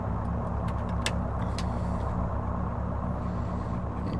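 In Microsoft Flight Simulator, the engine of a Carenado PA-44 Seminole runs, heard from outside the aircraft as a loud, steady, low rumbling drone with faint clicks above it.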